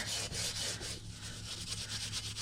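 Number 1 steel wool scrubs rust off a Ridgid tool, giving a close, steady abrasive rasp of quick back-and-forth strokes with no talking.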